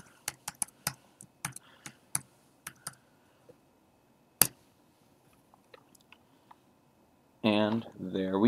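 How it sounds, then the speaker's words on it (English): Password typed on a computer keyboard at a Gmail sign-in, a run of sharp, close key clicks at an uneven pace that thins out, followed by a voice speaking. "I'm typing the password for this."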